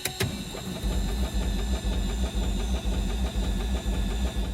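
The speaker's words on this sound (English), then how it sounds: "We can also see the engine compression simulation at work, and hear the starter solenoid and the magneto impulse couplings." Black Square Baron piston engine in Microsoft Flight Simulator cranking on cold oil and catching: a sharp starter click, then rhythmic chugging compression pulses with a steady mechanical hum and whine, loud and close.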